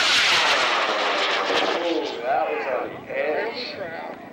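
A high power model rocket on an Arcas I-24 motor lifts off at a rocketry launch event, a loud roaring rush that slowly fades as it climbs away, with people talking over it.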